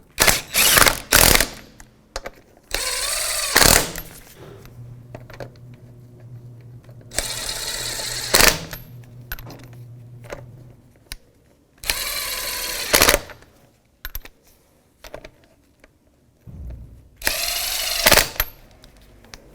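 Power tool on 19 mm lug nuts during a wheel bearing and hub assembly job on a 2001-2007 Volvo V70, several loud short bursts separated by pauses, each rattling briefly and close by.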